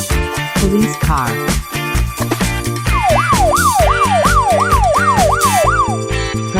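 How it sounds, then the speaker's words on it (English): Police car siren in a children's cartoon, a loud wailing tone that sweeps up and down repeatedly over a busy musical backing. "Police car."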